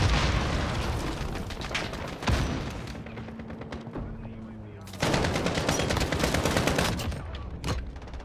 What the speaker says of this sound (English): Did he just hip fire over my head when I crouched?